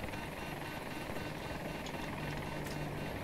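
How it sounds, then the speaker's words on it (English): A helicopter in the video game Battlefield 2042, a steady droning rotor whir filling the background at moderate level without any voices. "Appears to have been a chopper."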